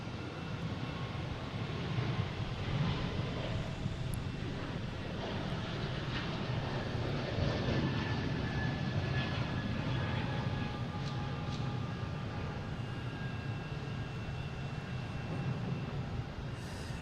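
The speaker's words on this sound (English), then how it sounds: "I'll get the JetBlue, we'll hear it." JetBlue jet airliner at Boston Logan airport, a continuous broadband engine roar that holds steady throughout without speech.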